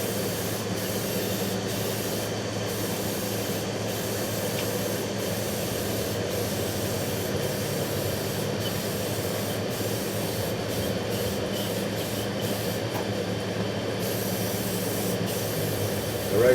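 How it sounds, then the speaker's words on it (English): Steady hiss of a spray paint can coating a motorcycle gas tank on a bobber build, continuous and close with brief pauses between passes, and no speech. "I recommend doing the sides first and then hitting the top. That way the overspray doesn't lay on."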